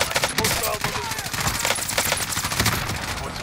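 Dense Call of Duty gunfire from a four-player squad match, loud and continuous bursts of rapid shots overlapping throughout with no clear pauses.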